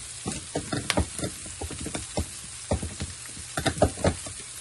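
Garlic and pepper stir-fried in a pan for pinakbet crackle in quick, irregular bursts of spitting and popping, close and moderately loud, with no talking.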